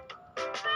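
Kittens at play indoors, one giving a short mew followed by two louder, longer meows close by, with no talking.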